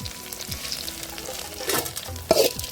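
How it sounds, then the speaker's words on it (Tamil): Banana shoots sauté in a pan, with a steady close sizzle under scraping stirs of a spatula and a few louder clattering strokes near the end. "வாழை குருத்து போட்டு வதக்கலாம்"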